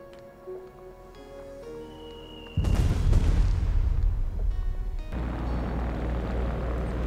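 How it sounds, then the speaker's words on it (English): Strategic bombing in the World War II strategy game Company of Heroes 3: after quiet ambient tones, a heavy rumbling explosion erupts and a loud, sustained barrage of booms and roaring blasts continues, with no talk. "which means continued strategic bombing"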